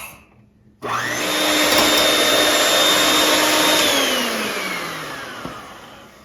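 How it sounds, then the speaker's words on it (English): An electric mixer switches on and beats five cracked eggs toward a froth for a traditional Chaldean wedding cake, a loud steady motor whine whose pitch drifts slightly as it runs on. "I've already cracked 5 eggs. And we're gonna beat this, like I would say, till, I like it till it's frothy, maybe 3-4 minutes."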